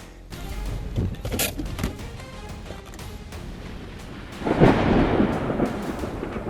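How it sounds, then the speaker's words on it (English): Thunder from a violent storm over New York City rolls and rumbles steadily, then swells into a louder, deeper crash near the end, with a rain-like hiss throughout. "Amid a violent storm, the sky over New York City erupts with spiderweb lightning striking around the World Trade Center"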